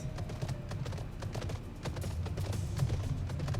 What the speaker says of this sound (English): We have a new horse!